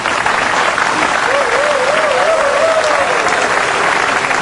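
Sustained applause from a crowd at a pool match, loud and steady throughout, with a faint whistle-like tone running through the middle.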